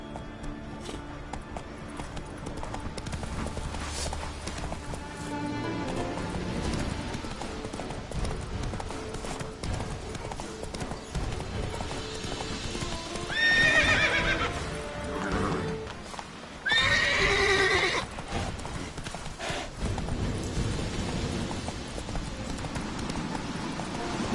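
Roach the horse in The Witcher 3 gallops with steady clip-clop hoofbeats throughout, broken by two loud neighs midway, with faint game ambience underneath.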